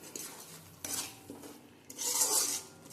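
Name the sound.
stirring spices into pointed gourd peel paste in a pan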